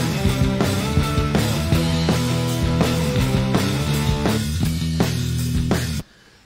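Mixed guitar tracks playing back with a full band during a song mix, loud and dense with steady rhythmic strums, stopping abruptly near the end.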